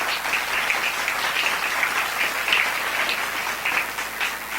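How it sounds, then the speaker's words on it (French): Church congregation cheering and applauding for the Lord, a dense steady wash of clapping with scattered shouts, loud and continuous with no speech. "Acclame très fort pour le Seigneur."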